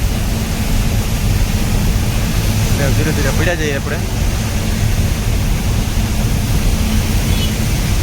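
Heavy rain during a road ride through Raipur city, heard as a loud, steady broadband roar that runs through the whole stretch, with a voice talking briefly over it.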